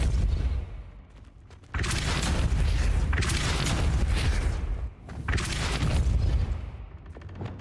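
The Depulso spell is cast in the video game Hogwarts Legacy, heard as loud, full rushing booms, two long surges of forceful blasting noise with a brief dip between them, up close with no talking.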